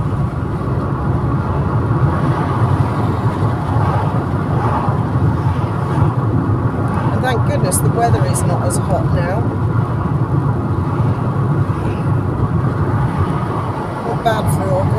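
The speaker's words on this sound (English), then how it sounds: "I just want all these cars in front of me to go away, get out of my way so I can get home." Steady road traffic rumbles around a car stuck behind a line of vehicles on a hot August day, a continuous broadband drone under a person talking throughout.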